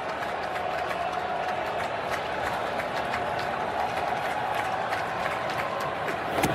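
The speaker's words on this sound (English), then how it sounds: "This crowd just showering love on him." A baseball stadium crowd at an NL Wild Card game between the Phillies and Cardinals, cheering and applauding Albert Pujols in a steady, broad roar with scattered claps, sustained throughout.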